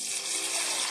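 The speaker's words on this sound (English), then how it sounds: "So I just added water to help those carrots cook a little bit more" Water pours steadily into a pot of simmering carrots, a continuous close hiss and splash with no break.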